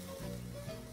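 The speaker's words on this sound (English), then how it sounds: "So this has now seared for about 2 minutes on each side." Steak searing in a pan, cooked about two minutes a side toward medium rare, medium and well done, with a steady close crackling sizzle alongside a low hum throughout, no talking.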